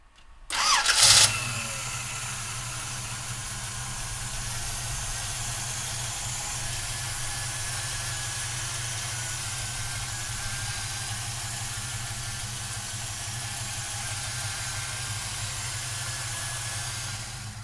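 A 1967 Ford Mustang convertible cranks and catches with a short loud burst, then settles into a steady, even idle. The low engine rumble holds close and constant for the rest of the stretch, with no talking over it.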